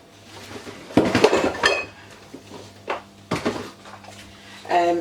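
Ginger beer bottle fetched and handled in a home kitchen, with glassy clinks, knocks and rummaging thuds in bursts over a low steady hum, close and moderately loud.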